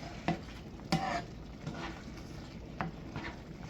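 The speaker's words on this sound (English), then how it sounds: "And I stir it all up." Spaghetti sauce sweetened with pancake syrup being stirred in a pot, with a few spoon knocks against the rim over a soft bubbling background, fairly quiet and close, no talking.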